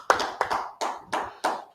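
A class clapping in unison, five sharp, evenly spaced claps in a steady slow rhythm, fairly close and alone without talk.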